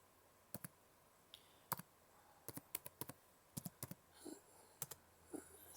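Keys tapped on a computer keyboard in irregular bursts of sharp clicks, close and fairly quiet, with short pauses between clusters and no voices.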